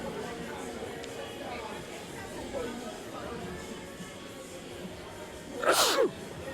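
A single sharp sneeze bursts out near the end, over low crowd chatter and the murmur of a roller derby venue.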